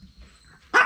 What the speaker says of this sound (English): we're home. With the wonderful dogs.